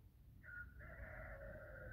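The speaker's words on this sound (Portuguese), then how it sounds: "Galo cantando no centro da cidade." A rooster crows in a city centre in Leiria, a single call that starts with a short note and then holds a long, fairly loud tone over low background rumble. No one speaks.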